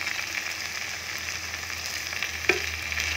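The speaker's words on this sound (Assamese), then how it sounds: "পানীটো শুকাই গ'ল, তেল বিৰিঙিছে। ইয়াত এতিয়া নৰসিংহৰ পাত কেইটামান কোমলীয়া দি দিম।" Curry leaves sizzle in hot oil, a steady close crackle of frying for soyabean rajma ghuguni, with one sharp pop partway through.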